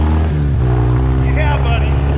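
A manual-transmission car pulls away in first gear after the clutch is dropped, its engine droning loud and close with a shift in pitch early on as it takes load, with a voice briefly over it.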